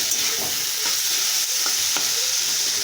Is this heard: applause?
no